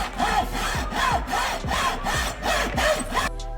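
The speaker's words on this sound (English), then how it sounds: "sawed it again" Hand saw cutting through thin OSB wood scraps held together with a clamp, steady back-and-forth strokes repeating about six times in a close, loud rasping rhythm, with no talking.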